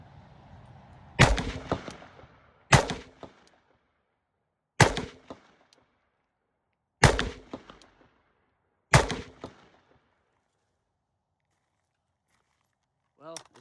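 Five loud, sharp rifle shots from a shortened Ruger Mini-14 with an opened gas port, firing M855 rounds outdoors, spaced about two seconds apart, each followed by a brief echoing decay, with quiet gaps between.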